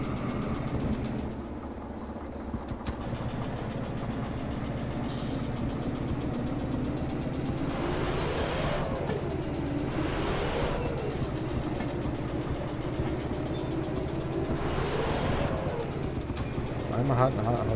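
A locomotive in the Derail Valley train simulator hauls a heavy load of steel rails, a steady rumbling engine and rolling drone with a few rising and falling tonal swells, while someone talks over it.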